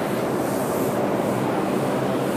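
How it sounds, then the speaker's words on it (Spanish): An old New York City subway train runs on its rails underground, giving a steady, loud, continuous rumble and rattle that fills the space without a break. "Así son los trenes subterráneos aquí"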